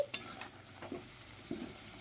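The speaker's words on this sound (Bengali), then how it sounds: "হলুদ গুঁড়োটা দিয়ে আবারও একটু নেড়ে চেড়ে ভেজে নিচ্ছি" Potatoes frying in a pan with turmeric powder are stirred, giving a few sharp scrapes and clinks of the spoon over a faint, quiet sizzle.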